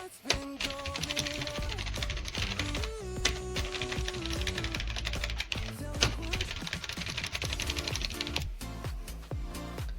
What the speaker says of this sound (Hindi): यहाँ पे मैंने कुछ भी टाइप किया